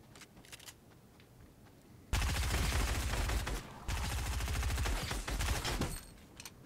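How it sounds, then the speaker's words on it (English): Rapid automatic gunfire from a video game erupts in two loud, sustained bursts after a quieter opening, each burst a dense rattle of shots with a short pause between them. "You are not infected, so I'm going to shoot you."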